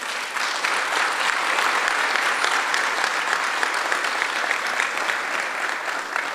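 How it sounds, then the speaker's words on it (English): An audience at a Fort Worth police department gathering breaks into a sustained round of applause, dense, steady clapping that begins almost at once and holds at an even level throughout, with no talking over it. "Please give Robert a round of applause."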